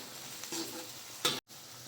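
Sausage and spring onion mixture sizzles in a pan while being stirred, a steady frying hiss broken by a couple of short scraping strokes and a brief cut to silence near the end.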